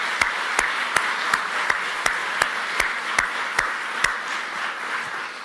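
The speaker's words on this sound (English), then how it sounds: "Let's give those guys a round of applause." An audience applauds military veterans, a continuous soft wash of clapping with several sharp, evenly spaced loud claps standing out near the front before it thins at the end.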